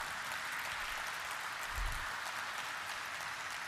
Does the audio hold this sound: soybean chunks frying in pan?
no